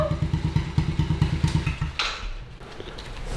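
A dirt bike engine idles after a carburetor cleaning, with a close, steady, lumpy putter of rapid firing pulses that then fades into a quieter rumble with a clunk.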